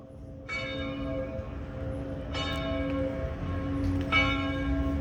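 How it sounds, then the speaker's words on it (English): Church bells ring out in Paris in three distinct strikes roughly two seconds apart, each leaving a long, shimmering harmonic decay that overlaps a steady outdoor background hum. "The bells! The bells!"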